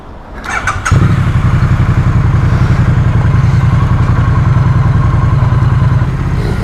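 A Triumph Street Twin motorcycle engine fires up with a few quick clicks, then settles into a loud, close, steady throbbing idle that continues to the end.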